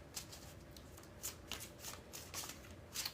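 Tarot cards bridge-shuffled by hand, a run of crisp riffling bursts and soft flutters repeating at an uneven pace, close and fairly quiet with no talk.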